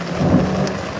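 Thunder rolls as a short, low rumble during a rainstorm in Colorado, about a second of heavy, muffled booming over steady rain.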